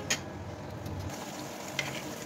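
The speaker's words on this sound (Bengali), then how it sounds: "আর এই যে মশলাগুলো আমি একটু পানি দিয়ে সুন্দর করে কষিয়ে নিব।" Spices being fried down with a little water and stirred in a pan, giving a soft continuous sizzle with a couple of faint clinks from the spoon, close and fairly quiet.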